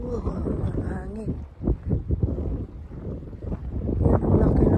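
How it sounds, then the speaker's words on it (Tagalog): Strong gusts buffet the microphone beside the huge ship Duke of Lancaster at Llanerch-y-Mor, low roaring bursts that rise and fall while someone talks excitedly over them. "Wow, ang hangin."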